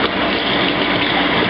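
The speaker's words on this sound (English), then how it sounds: "we're going to take our spoon and we're going to rinse it off completely" A spoon is rinsed under strong running water while brewing a honey ale, a loud continuous gushing splash throughout, close and without talk.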